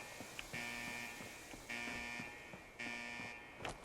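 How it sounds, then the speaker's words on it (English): An alarm goes off in the video game Fallout 4, sounding as three loud, evenly spaced buzzing blasts, each about half a second long and separated by short pauses, over a faint steady game background. "it's like an alarm or something."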